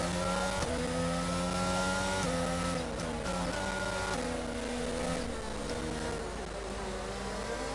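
Crackly, distorted car engine audio from a Codemasters racing game on PS4, set in a Bahrain race with an Aston Martin, heard as a constant buzzing engine drone with shifting revs and a harsh, gritty edge.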